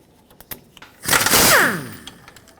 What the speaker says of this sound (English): On the driver's side, right next to this power steering cooler hose, I'm going to remove this 10mm bolt.